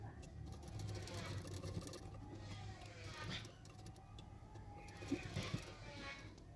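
A sewing machine stitches along the edge of a boat-neck princess-cut blouse with lace attached, giving a steady, close mechanical whir throughout, with a soft voice faintly present underneath.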